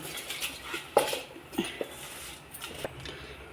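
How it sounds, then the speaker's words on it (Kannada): A utensil scraping and clinking against a pot while washed ration rice is stirred into boiling water; a few quiet, close, irregular taps and scrapes. "ಅಕ್ಕಿಯಲ್ಲಿ ಹಾಕಿದ ಮೇಲೆ ಈ ಥರ ಒಂದು ಸತಿ ತಿರುವಾಡ್ಕೊಂಡ್ಬಿಡ್ತೀನಿ"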